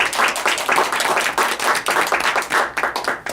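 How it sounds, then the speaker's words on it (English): A short round of applause on a radio show, a small group clapping close to the microphone with distinct, uneven hand claps that thin out near the end. "Let's give a round of applause."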